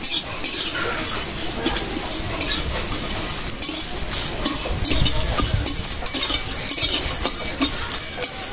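Bay leaves, cumin and coriander seeds fry in a pan, giving a steady close sizzle broken by frequent scrapes and clinks of a stirring utensil against the metal throughout.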